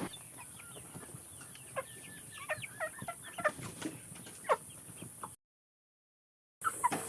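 Several two-month-old free-range chickens cluck and chirp in short, scattered bursts over a steady background hiss, then a brief silence before the clucking resumes.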